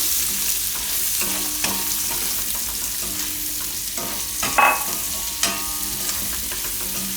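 Carrots and green chilies fry in a garlic tempering in a pan, giving a continuous sizzle with repeated scrapes and clinks of a spoon stirring them, close by.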